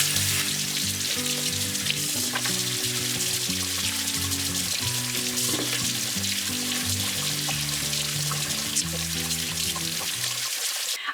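Running water pours steadily from a tap as beets are scrubbed with a scrub pad beneath it, a continuous close splashing hiss with soft rubbing underneath and faint background music.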